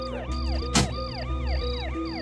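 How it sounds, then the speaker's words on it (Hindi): An ambulance siren wails steadily in a repeating rising and falling pattern, fairly close, with a brief sharp noise burst partway through. "25 मिनट के भीतर एम्बुलेंस दरवाजे पर खड़ी थी।"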